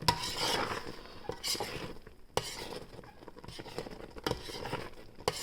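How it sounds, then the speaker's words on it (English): Thick strawberry jam at a full boil, bubbling and popping with soft spattering and occasional sharp clicks, a steady close churn without voices. "You hear that sound? That's how you know it's pretty much done. Okay, it's like that thick boil."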